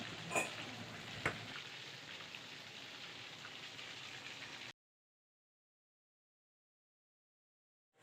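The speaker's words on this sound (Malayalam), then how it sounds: "ഞാൻ ചിക്കൻ കറി വെക്കാൻ വേണ്ടിയിട്ട് നിന്ന് ആദ്യം പൊരിച്ചിട്ട്" Chicken pieces fry in a pan ahead of a curry, giving a steady close sizzle with a couple of sharp pops. After nearly five seconds the sound cuts off abruptly into silence.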